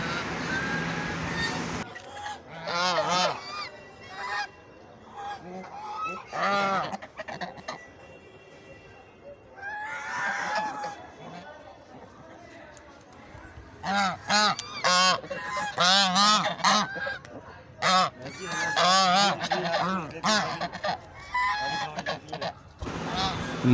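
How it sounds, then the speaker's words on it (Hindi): Ducks and geese honking in Odisha, India, a busy flock calling in loud, repeated nasal honks and quacks, with bursts of overlapping calls and brief quieter lulls. "बत्तखें"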